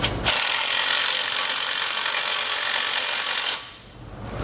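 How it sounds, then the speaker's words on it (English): Power tool tightening bolts on a Demco tabless base plate on a 2020 Jeep Gladiator: one steady, loud whirring run of about three seconds that stops abruptly. "We can go ahead and tighten it down."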